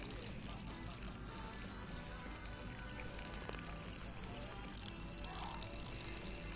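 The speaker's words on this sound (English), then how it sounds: "Just pour the coconut milk in." Coconut milk poured steadily into a sweet mixture with jam, a continuous liquid pour lasting several seconds, close and fairly even in loudness with no talking.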